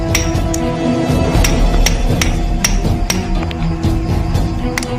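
A hammer hits a very hard mustika stone set on a stone base again and again, giving sharp, loud, ringing cracks at an irregular pace against steady background noise.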